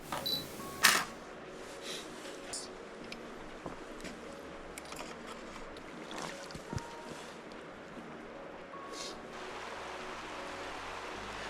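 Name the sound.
camera shutter firing on a 2-second timer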